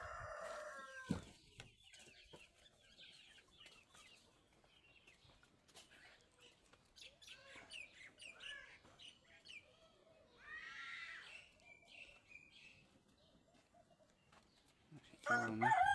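Chickens cluck in scattered bursts around a small farmyard, with one clear rooster crow among them, mostly moderate and at mid distance, and a louder burst of clucking near the end.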